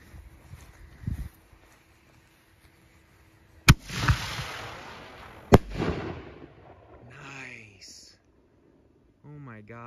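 A firework canister shell with a willow effect launches with a sharp, loud thump and bursts with a second boom. A long crackling, hissing trail follows at a distance, and people speak just afterward.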